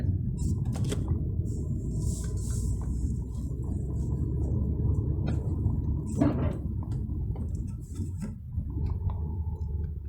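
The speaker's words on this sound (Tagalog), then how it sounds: "you can hear the engine, but it's not too drony, it's not too loud." Engine of a 2021 Volkswagen T-Cross SE while driving: a steady, low, moderate rumble inside the cabin, with road noise and a few faint ticks and clicks throughout.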